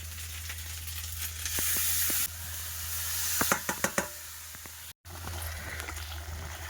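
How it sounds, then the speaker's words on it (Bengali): Ground spice paste fries in hot oil with a steady, bright sizzle and hiss that swells, with a few quick clinks of stirring near the middle and a low background hum. "শিলের উপরে বাটা মশলাটা দিয়ে দেবো এটা তেলের মধ্যে দিয়ে দেবো করে একটু কষাই করে নেবো মশলা"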